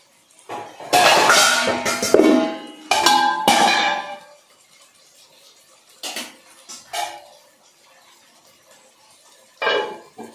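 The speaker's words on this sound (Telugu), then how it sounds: "దీనిపై మనం మూత పెట్టాలి." A metal lid is set onto a cooking pot of mutton biryani with loud ringing clanks and clatter. A few softer knocks follow after a pause, all close and without speech.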